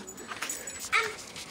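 Dogs whimper and let out short high yips, a few quick close cries in a row that end in one louder yelp.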